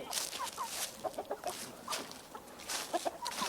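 Chickens clucking inside a farm pen, a string of short, fairly faint clucks and squawks coming in uneven bursts at close to medium range, with no speech over them.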